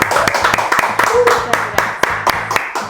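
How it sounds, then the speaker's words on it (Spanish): A studio audience claps to welcome a guest onto a late-night TV show, with rapid, rhythmic claps that are close and loud over a low musical backing. "con un fuerte aplauso recibimos a Karime Yacaman Neira."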